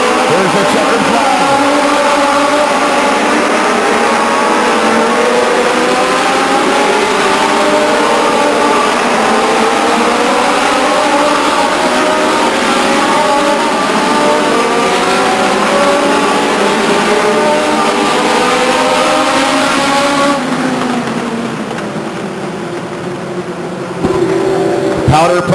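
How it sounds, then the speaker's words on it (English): Legends race cars roaring around Stockton 99 Speedway at the finish of a race, a loud continuous buzz of engines passing close, with a public-address announcer talking over them, fading near the end. "And so now coming around is your race winner."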